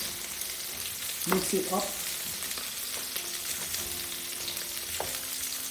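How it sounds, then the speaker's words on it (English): Vegetables, herbs and seasoning fry in a pan and are stirred for a pumpkin rice dish, giving a steady close sizzle with a brief scraping stir as a voice speaks over it. "So we'll mix up the veg, we'll give it a mix"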